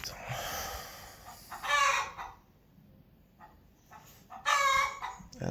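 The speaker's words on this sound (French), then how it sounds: "réveillé par une poule" A hen on Rodrigues Island gives loud, close, drawn-out clucks and squawks in two bursts, with quiet gaps between them and no talking.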